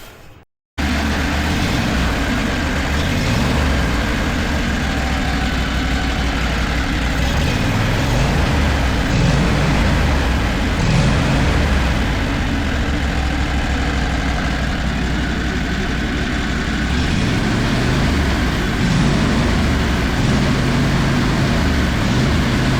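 Small engine on a homemade mini skid-steer snowblower runs steadily at close range, its throttle driven by an Arduino controller, with a low, even idle drone that holds for the whole stretch after a brief silent start.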